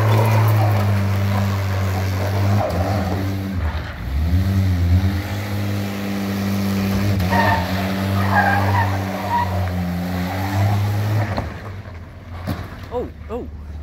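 A Jeep Cherokee 4.0 engine drones steadily at high revs, then is dropped into gear from neutral, and the tires squeal and skid as they spin up smoke. The engine holds loud and close throughout, easing off near the end.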